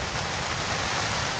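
Heavy rain pours onto a leaking camping tent at 3 a.m., a dense, loud, unbroken hiss of drops drumming on the fabric.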